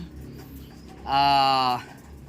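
A single sustained harmonic call from a pet derby bird rises over a low background murmur, lasting under a second before fading.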